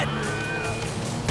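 A car engine in Grand Theft Auto V, knocking and failing, runs as a steady mid-range drone through most of the moment, with a louder low thump and rise at the very end.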